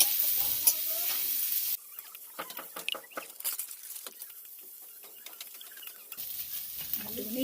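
Freshly caught Sundarbans eel fish fry in oil in a village kitchen pan, a soft crackling sizzle with scattered stirring scrapes and taps, fairly faint and close, with background noise swelling at the start and end.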